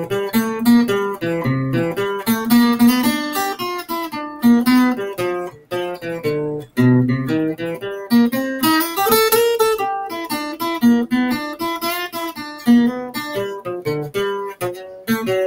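Sung blues arpeggios trace the chord changes of a 12-bar blues with a minor-to-major third inflection, delivered alone by a single melodic voice with no accompaniment, steady and close throughout.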